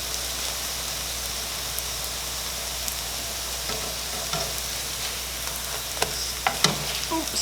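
Zucchini fritters with onions fry in a pan with a continuous soft sizzle, and a few sharper pops and scrapes come near the end.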